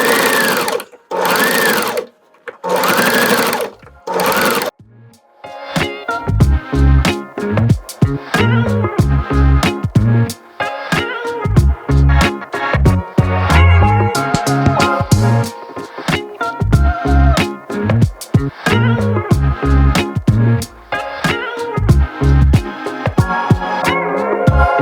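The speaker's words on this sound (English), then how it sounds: "So the whole thing is pinned down and I just need to edge stitch the hem." A sewing machine edge stitches a pinned hem on a tank top, running in loud bursts of rapid needle clatter with short pauses, after a few stretches of talking at the start.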